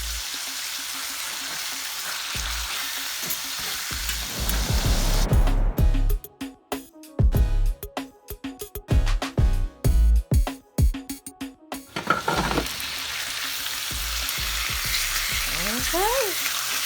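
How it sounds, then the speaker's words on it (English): Onions and fresh green beans fry in a home kitchen pan, a loud steady sizzle broken midway by bursts of clattering stirring before the hiss settles back. "I also am going to add some of these onions in with the green beans, the fresh green beans that I'm cooking."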